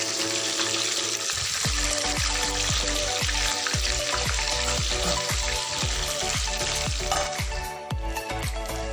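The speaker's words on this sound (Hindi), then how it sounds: "इसको मीडियम लो फ्लेम पे हम लोग फ्राई कर रहे हैं" Korean honey butter fried chicken double frying in hot oil over a medium-low flame, a steady loud sizzle and bubble with repeated clinks and scrapes of a utensil stirring the pieces.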